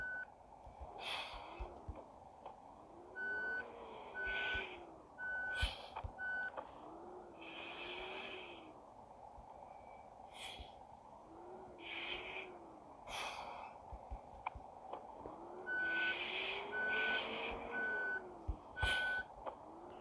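A truck backing up sounds its reversing alarm: evenly spaced beeps in on-and-off runs, with a low engine hum and brief snorting, breath-like bursts throughout.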